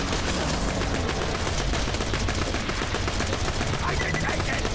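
Rapid pistol gunfire in the Borderlands 2 shooter game, a dense, continuous burst of loud shots layered over game effects and background noise for the whole stretch.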